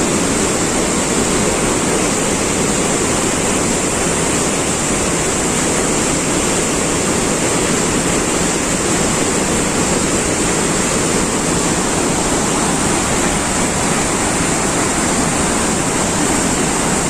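Floodwater rushes downstream from the Medigadda barrage in Jayashankar Bhupalpally district, a steady, unbroken broadband roar of heavy flow that holds at an even level throughout, with no voices.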